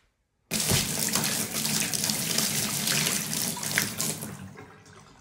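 Water running into a newly plumbed whirlpool tub and draining through PVC and ABS pipes, a loud steady rushing gush that starts suddenly, holds for several seconds, then tapers off as the flow dies down.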